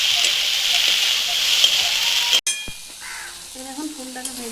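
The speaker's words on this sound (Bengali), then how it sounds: "মশলা এখন দিয়ে দিচ্ছি এই ফুল, মুনগা ফুল। এটা কিছুক্ষণ ভেজে নিচ্ছি।" Moringa flowers fry with spices in a pan, giving a steady bright sizzle that cuts off abruptly partway through, after which a quieter crackle continues under faint background sounds.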